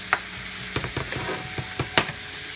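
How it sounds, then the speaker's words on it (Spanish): Precooked nopal cactus and vegetables cooking in a pan, a soft steady sizzle with occasional scrapes and taps of a utensil stirring, close by and with no talking. "solo vamos a estar esperando que la verdura se cocine un poco."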